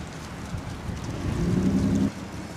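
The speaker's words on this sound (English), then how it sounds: "This wind is really picking up." Strong wind gusting outdoors during a yard job, a broad rumbling roar against the microphone that swells louder midway, then drops back abruptly near the end.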